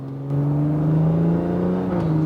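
A BMW F30 340i with a catless downpipe revs hard, a loud close droning engine note that climbs steadily, then dips briefly as it shifts up.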